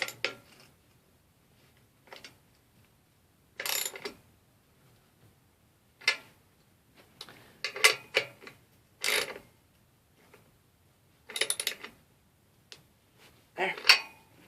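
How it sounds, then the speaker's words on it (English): A wrench snugging the axle nuts on a BMX wheel during a tube change gives scattered metallic clicks and clinks in short bursts with quiet gaps between them, close up. "Now, just get a wrench, snug them."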